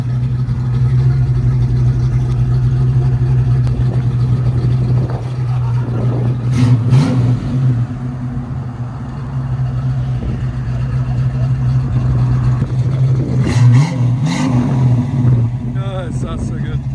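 A 1939 Chevy Master 85 with a 350 V8, true dual exhaust and Cherry Bomb mufflers idles with a deep, steady rumble, then revs up sharply twice, the bursts rising and falling before settling back to idle.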